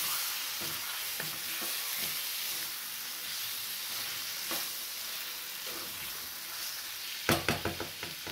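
Chicken curry being stirred in a pan over medium heat, giving a steady close sizzle and frying hiss with soft scraping strokes, then a burst of sharper clatter near the end.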